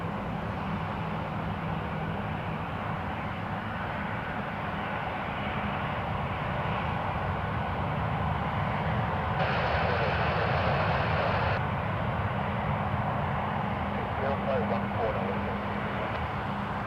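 A WestJet Boeing 737-800 in old Swoop livery, bound for Calgary, roars steadily at Toronto Pearson Airport, its broad engine noise loud and continuous, with a brighter surge midway and a voice talking over it.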